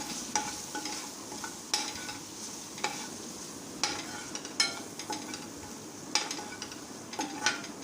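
A spoon stirs turmeric, chili powder and garam masala in a pan, making close, rhythmic scraping strokes about once a second over a faint, steady sizzle.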